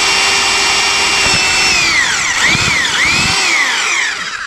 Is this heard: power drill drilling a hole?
yes